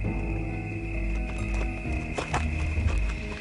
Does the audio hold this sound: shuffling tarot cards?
no